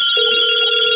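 Telephone ringing with an incoming call during a podcast, a steady electronic ring tone held continuously across the short moment, loud and close with no talk over it.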